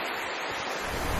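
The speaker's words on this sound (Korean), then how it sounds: "파도 소리가 들리시나요?" Ocean waves at Dalesin island in the Philippines, a loud continuous wash of surf mixed with gusty wind buffeting the microphone, steady and close with no talk.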